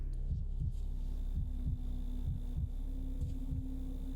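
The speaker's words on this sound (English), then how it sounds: "Normal heartbeat." A heartbeat is heard during a doctor's examination in the video game Pathologic 3: a steady series of soft, low, paired thumps, about seven beats over a faint electrical hum, with no talk.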